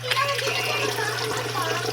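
Tap water runs steadily while fingers are washed, a light continuous splash and trickle over a low steady hum, with a voice chattering faintly underneath.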